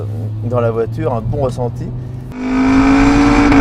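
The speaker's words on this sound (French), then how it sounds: "Avec la RS3, on a un 5 cylindres, un bruit très rauque, un beau bruit" Audi RS3 five-cylinder engine revs up with a raspy, rising note, loud and close, following a stretch of French talk inside the car.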